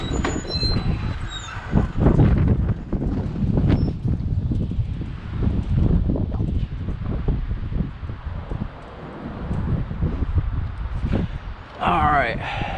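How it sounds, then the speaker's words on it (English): Strong wind gusts roar and buffet outdoors, loud and broadband with constant rushing, while someone talks over it and a brief higher whine cuts in near the end. "Woo, holy hell, it's windy."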